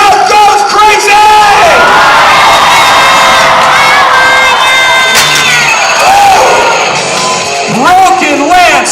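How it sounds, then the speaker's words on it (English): Loud crowd cheering and shouting at an extreme jousting tournament at the Ohio Scottish Games, a dense roar of many voices including children that holds steady for the whole stretch, with an announcer-like voice mixed in. "And the crowd goes crazy!"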